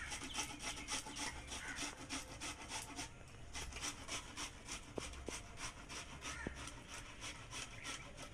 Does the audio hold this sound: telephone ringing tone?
no